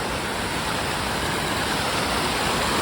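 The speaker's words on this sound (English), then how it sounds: "It sounds loud, so I'm assuming that it's some kind of waterfall." A loud waterfall along the Fundy Footpath roars as a dense, unbroken rush of water, heard close and alone.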